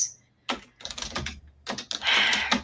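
Fingers type on a computer keyboard while writing code, quick clusters of close key clicks in uneven bursts separated by brief pauses, ending in a denser run of tapping.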